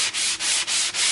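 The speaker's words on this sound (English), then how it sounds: "So you basically made your own custom sanding block." Hand sanding with paper on a homemade curved sanding block makes four loud, close, rhythmic rasping strokes, each a broad scratchy hiss with short gaps between them.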